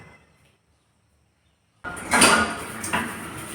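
Pots and pans clatter while dishes are being washed in a home kitchen, a few sharp metallic knocks and scrapes arriving after a brief silence, fairly close and loud.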